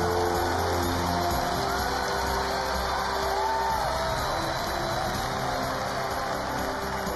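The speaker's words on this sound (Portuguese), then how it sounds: "Muitas palmas para Marta Vasconcelos." A pageant audience at the Miss Brasil final applauds and cheers steadily, with a dense wash of clapping, yells and whoops held at a constant level throughout.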